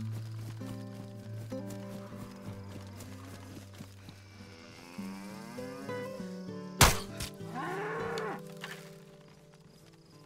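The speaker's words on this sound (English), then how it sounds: "Let's go see where those cows are." Cows moo in the survival video game DayZ, with drawn-out lowing calls against a steady background. One sharp, loud crack cuts through partway, and more mooing follows.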